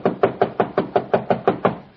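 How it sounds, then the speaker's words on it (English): A steady run of about nine loud, close knocks on a door, evenly paced and insistent, each rap sharp and solid with no voices over them. "Why didn't you answer my knock?"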